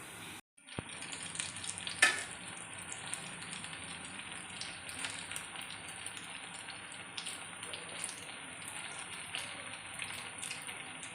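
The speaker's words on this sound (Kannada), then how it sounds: "ಮೀಡಿಯಮ್ ಟು ಸಿಮ್ ಫ್ಲೇಮಲ್ಲಿ ಇಟ್ಟು ಇದನ್ನು ಫ್ರೈ ಮಾಡಿ," Paneer frying in a pan over a medium-low flame, a soft continuous sizzle and crackle with a few faint pops, quiet and close.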